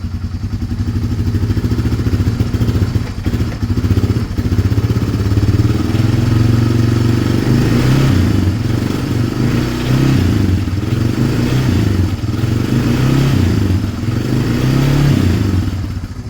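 A revived Honda 300 engine runs steadily and loudly up close with choke off, a continuous mid-pitched chug with some clattering mechanical noise and slight surges in speed throughout.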